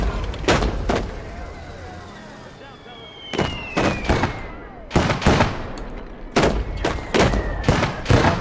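Heavy artillery and gunfire boom in a war video game, a series of loud sharp blasts in irregular bursts with whistling shells between them, and a voice speaks over the battle.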